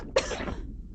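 A single short cough, abrupt and close, that fades out over a fraction of a second.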